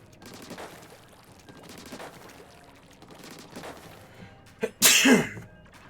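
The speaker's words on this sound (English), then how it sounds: "I need to sneeze." Quiet breathy sounds lead up to a single loud, explosive sneeze close to the microphone.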